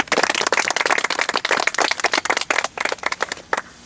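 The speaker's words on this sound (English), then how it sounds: "Let's give them a round of applause" A small outdoor audience at a Gettysburg living history cavalry demonstration gives a scattered round of applause, a few nearby hands clapping unevenly for several seconds before tapering off.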